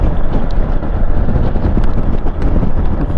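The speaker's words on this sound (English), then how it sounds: "This is bloody windy." Heavy, steady wind roar buffets the microphone during a motorcycle ride along a coastal road in Japan on a rainy day, loud and unbroken throughout.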